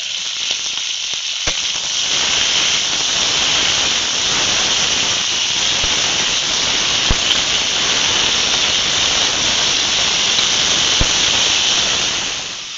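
Carrots, pumpkin, radish and kohlrabi fry in a pan of hot oil, giving off a steady, loud sizzle that holds for the whole stretch, with a few faint clicks and no voices.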